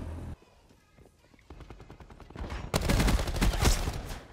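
Heavy gunfire in Black Ops 4: sparse rapid shots build into a dense, loud barrage of overlapping blasts in the second half, with no one talking.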